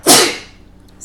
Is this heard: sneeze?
yes